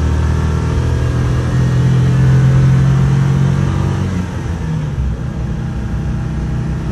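A Citroen Ami 8 hums along steadily, its small engine droning and pitch dropping as a gear change comes through, heard close and alone.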